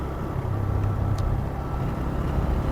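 A TVS Raider 125 motorcycle ridden along a highway bypass road, its engine a steady low drone mixed with heavy wind rush, continuous and close throughout with no talking.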